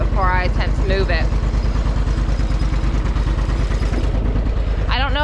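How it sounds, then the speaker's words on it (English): A garden tractor engine idles steadily after starting and warms up, a close, even, rapid putter with some rattle. A person talks over it. "I finally got the garden tractor started up. Let it warm up a second before I attempt to move it."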